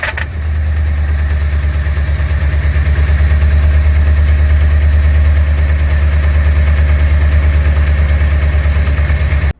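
The engine of a 1969 Chevelle SS, a project car that sat for years, idles loud and close with a steady, deep rumble that holds evenly from start to finish with no voices.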